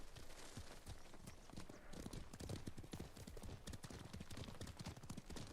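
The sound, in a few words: horse hooves clip-clopping in Ghost of Tsushima video game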